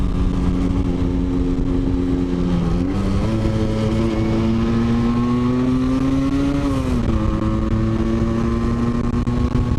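A rebuilt Yamaha RD125LC motorcycle engine runs loud and close for the whole stretch, holding a steady buzzing note with brief dips and rises in revs around the third and seventh seconds.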